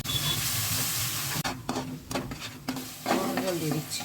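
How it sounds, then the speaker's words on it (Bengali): Yogurt is stirred into a well-fried spice paste for Bengali rohu fish curry; a steady sizzle gives way to scraping spoon strokes and bubbling, close and moderately loud, with occasional soft voice sounds underneath. "এবার আমি 2 চামচ দই দেবো এর মধ্যে।"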